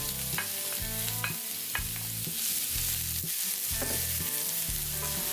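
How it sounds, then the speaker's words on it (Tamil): Bottle gourd pieces sizzling in ghee in a pan, a dense continuous fry close up, broken by several spoon-stirring scrapes and clinks, with no voices. "இப்போ இதே பேனில் தேவைப்பட்டால் இன்னும் கொஞ்சம் நெய் சேர்த்துட்டு நம்ம வெட்டி வச்சுருக்க காயை உள்ளே சேர்த்துட்டு கொஞ்சம் நேரம் வறுக்கணும்"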